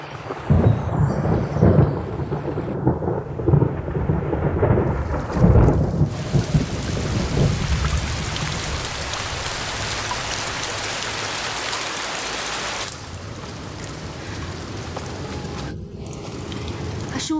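Steady heavy rain pours down, with rumbling thunder rolling under it early on, then a dense, loud downpour that later eases slightly, without any voices.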